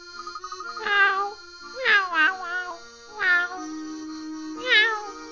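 A small cat meows in the video game Professor Layton, four or five clear, separate mews spaced across the clip, close and alone, with faint background music.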